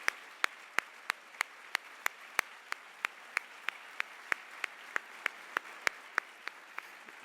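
A lone person clapping slowly and evenly at an induction ceremony for a selection committee, about twenty sharp claps in a regular rhythm over a quiet room.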